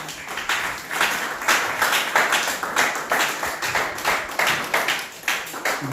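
Congregation in a church service clapping together in steady, rhythmic applause, close and lively, continuing for several seconds without speech.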